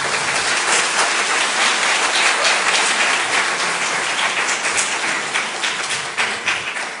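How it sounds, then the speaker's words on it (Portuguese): A hall audience at a debate on suicide, science and spirituality claps steadily in a dense, rain-like wash that lasts about seven seconds, loud and close, thinning slightly near the end. "Então uma salva de palmas para eles"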